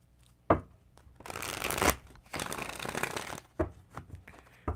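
Cards are shuffled in a few quick riffling bursts, separated by brief taps and pauses, close and fairly quiet.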